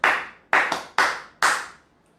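A man running for governor of Edo State, Nigeria, claps his hands for himself: five sharp, close claps in an uneven rhythm, with two in quick succession, then the room goes quiet.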